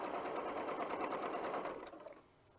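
A home sewing machine runs steadily, stitching scrappy chevron quilt squares together, a fast even whir close up that slows and trails off near the end.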